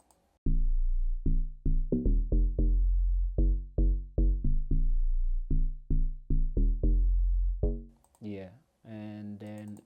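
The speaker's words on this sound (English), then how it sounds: "Let me play you guys the log drum." A log drum preset layered with an FM sub bass plays a punchy rhythmic pattern of deep, pitched hits, loud and upfront, before brighter melodic synth tones take over near the end.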